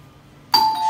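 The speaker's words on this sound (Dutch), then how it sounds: "en je hebt ook een bel." A room service bell at a hotel on Rhodes gives one bright ding with a clear sustained ring that follows a quiet background, close and loud, with no talking.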